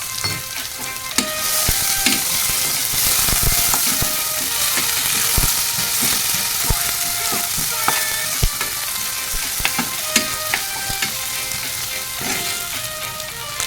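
Onions frying in a pan for chicken masala, a loud continuous sizzle and crackle with scattered sharp pops and spoon scrapes throughout, no talking.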